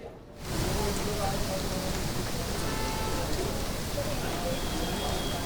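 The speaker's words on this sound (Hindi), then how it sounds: "आप देखेंगे अभी भी जो बारिश है, बारिश हो रही है और तेज़ हवाएं चल रही हैं।" Steady, heavy rain driven by strong wind pours down in Noida, a dense, loud, continuous hiss that starts abruptly and holds without letup.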